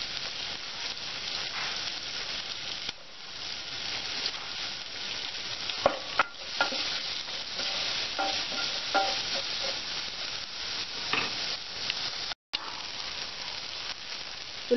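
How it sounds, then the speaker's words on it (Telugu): Garlic cloves and chopped onion fry with salt in a pan, a constant close hiss overlaid by scraping stirs from a spoon, with a few louder knocks and a brief dropout near the end; nobody speaks. "వెల్లుల్లి రెబ్బలు, ఉల్లిపాయ కొంచెం ఫ్రై అవ్వాలి"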